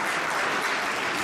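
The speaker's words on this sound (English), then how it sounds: "May we have another round of applause," Audience applause at a ceremony with a military guest of honour, steady and dense crowd clapping throughout the short stretch with no voices over it.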